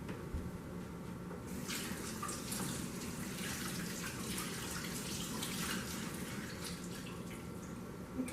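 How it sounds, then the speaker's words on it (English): Tap water runs steadily into a kitchen sink as seeds are rinsed off, a continuous close hiss and splash lasting throughout with no pauses. "I'm going to rinse them off in the sink"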